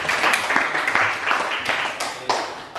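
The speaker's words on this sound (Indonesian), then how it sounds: "sekali lagi tepuk tangan untuk" A classroom of students claps together in a dense, moderately loud round of applause, with brief louder bursts, heard close by for a few seconds.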